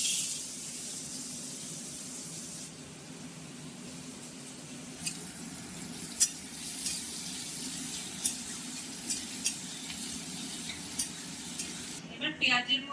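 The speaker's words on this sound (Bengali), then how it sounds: "সেই পেঁয়াজটা পুরো ভাগ দিয়ে দিতে হবে তেলের মধ্যে" Chopped onion frying in hot oil with cumin tempering gives a steady, close sizzle throughout, broken by scattered clicks and scrapes of stirring, with a brief clatter near the end.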